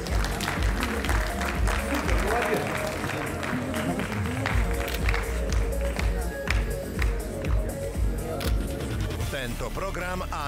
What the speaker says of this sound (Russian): Еще раз аплодисменты нашим победителям